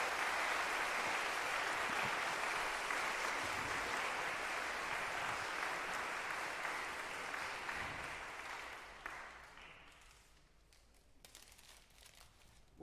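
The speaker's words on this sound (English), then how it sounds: "Give them a big round of applause." Audience applause for mayoral candidates at a candidates forum, a long steady burst of clapping that slowly thins and fades toward the end.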